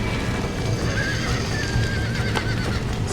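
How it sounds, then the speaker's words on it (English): A horse in the Red Dead Redemption video game neighs loudly and close, a drawn-out whinny over steady hoofbeats and background rumble, with no talking. "Ein Pferd."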